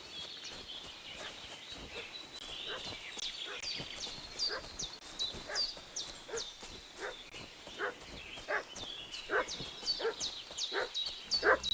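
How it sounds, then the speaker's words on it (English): Dog barking in the medieval role-playing game Kingdom Come: Deliverance II, a long run of repeated agitated barks and yips at moderate distance, irregular but persistent, with faint bird-like calls in the background. "What's that dog making such a fuss about?"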